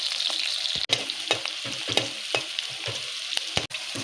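Onions fry with goat tripe in a pan, a continuous moderate sizzle broken by repeated stirring scrapes and clinks, with two brief dropouts in the sound.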